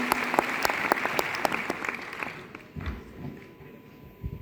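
Audience at a college NSS camp event applauding a district magistrate onto the stage, loud clapping that thins out and dies away midway, leaving scattered claps and faint room noise.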